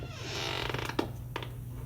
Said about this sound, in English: walking through an Anderson brand storm door, full glass